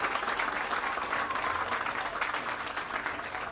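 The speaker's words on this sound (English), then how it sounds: "give a round of applause for the Will County Contingency fighting for this community" Crowd applause at a rally with the Illinois governor marking the opening of a climate and equitable jobs funded EV site, steady dense clapping from a sizable audience lasting the whole stretch.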